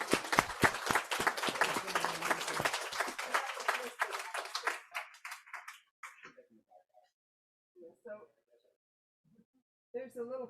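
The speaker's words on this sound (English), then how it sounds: "I just want to invite you all to give yourselves a round of applause." Dense applause and clapping from a church congregation at a Sunday service fills the first few seconds, then fades out, leaving a few scattered claps and a brief bit of speech.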